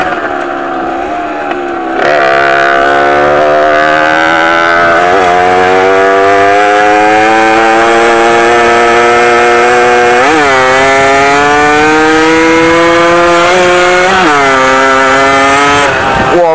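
An Aprilia M6 motorcycle engine under way, loud and close, with a buzzing two-stroke-like drone that climbs in pitch through gear changes and rising revs, dipping briefly between shifts.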